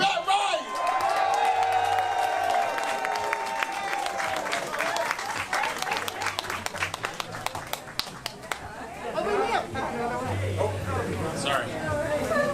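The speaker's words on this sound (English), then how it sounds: "give a big round of applause for Pat Ryan." A rally crowd at a voting rights event breaks into sustained applause and cheering, loud and continuous at first, then thinning as a speaker begins talking over it.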